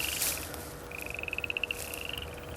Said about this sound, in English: I can hear some tree frogs out there.